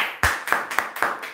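A single person claps hands four times in an even rhythm, with sharp, close slaps during a live home yoga and cardio workout session.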